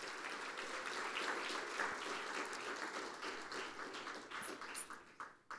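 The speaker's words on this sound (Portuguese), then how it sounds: "Vamos aplaudir o Senhor." Applause from an evangelical church congregation, steady dense clapping filling the room at moderate level, then breaking into scattered claps as it dies away at the end.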